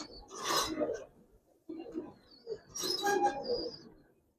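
A female Giribaz pigeon coos softly in a few short, breathy bursts, close by and fairly faint, with brief pauses between calls and no talking.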